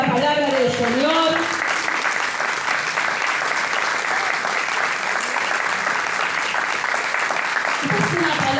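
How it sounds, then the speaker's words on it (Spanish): A church congregation breaks into strong, sustained applause after a preacher's brief words at the start, clapping filling the room until another voice returns near the end. "Den un fuerte aplauso a la palabra del Señor."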